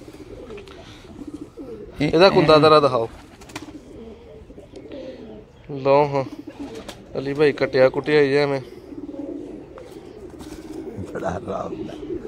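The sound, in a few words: pigeons cooing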